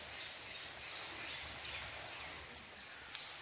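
Rain falls steadily during the rainy season among mango trees, a faint, even hiss of drops on surfaces continuing without a break and with no voices.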